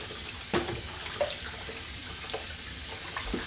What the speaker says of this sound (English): I'm gonna dump my water carefully into the sink